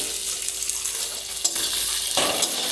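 Sliced onions, around six, dropped into hot oil with garlic for a chicken curry, giving a continuous sizzle that surges louder as more onion goes in, with a faint clink of pan and stirring.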